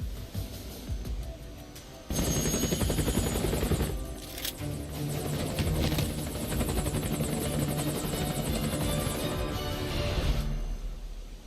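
Helicopter in Metal Gear Solid: Peace Walker, a loud steady rotor chop and engine drone swelling in after a quieter opening and running continuously near and strong, with brief sharper bursts layered over it.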